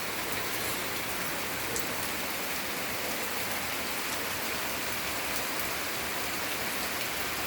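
Steady, dense rain falls without pause, a close hiss of countless drops striking surfaces with no voices or thunder.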